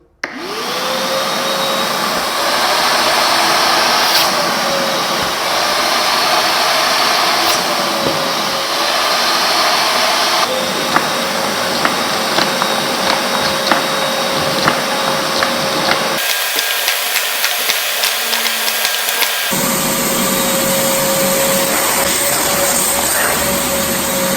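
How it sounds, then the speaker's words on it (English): A RIDGID corded vacuum runs steadily with a loud, continuous whine and airy roar, its pitch shifting slightly as it works over an obstacle course, with scattered clicks and rattles of debris being picked up. "see if I can visually notice a difference in the suction power between the corded and cordless vacuum"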